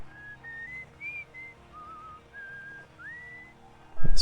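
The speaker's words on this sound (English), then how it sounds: "That's whistling, that's not an instrument." A character whistles a slow wavering tune in the video game Outer Wilds, played in VR, soft and fairly near over a faint ambient hum, ending with a sudden louder clatter.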